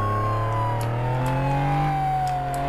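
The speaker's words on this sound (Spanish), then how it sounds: "Voy a poner los pirulos y la sirena" A police car siren wails in the Flashing Lights game, a steady gliding tone sweeping slowly downward over a low engine hum, loud and close, no voices.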